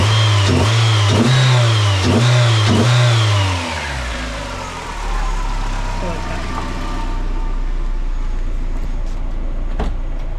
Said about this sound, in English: Just hear a bit of that cold air intake